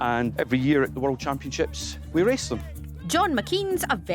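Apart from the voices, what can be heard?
None of the usual background noises is heard.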